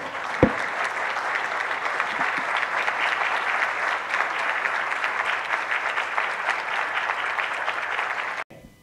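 Steady, dense audience applause fills the room at a food security symposium, holding at an even level for about eight seconds before cutting off abruptly.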